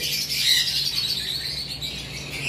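Birds at a farm give a harsh squawking call that rises and holds for a couple of seconds, fairly close and clear over a quiet background.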